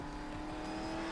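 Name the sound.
car drifting in a racing simulator video game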